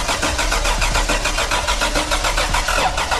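A Toyota 4Runner engine with a dead battery cranks over with a rapid, steady churning rhythm from the starter, loud and close, running continuously without voices.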